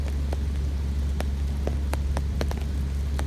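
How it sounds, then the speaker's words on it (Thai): Steady rain patters down with scattered sharper drips striking a surface, over a constant low rumble. "ฝนตกอีกแล้ว"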